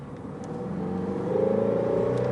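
A Shelby GT350 on winter tires drives along, its engine note rising and thickening into a smooth rumbling hum as it accelerates, heard from inside the car with steady road noise beneath.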